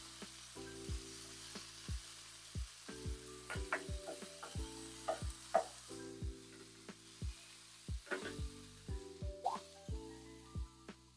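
Potatoes fry in a pan with a faint, steady sizzle under clearer scraping and stirring sounds that come at irregular intervals.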